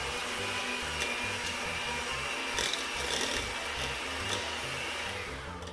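Electric hand mixer whirring steadily through banana nut bread batter as eggs are beaten in one at a time, a continuous close buzzing hum with a rough, scraping texture and no pauses.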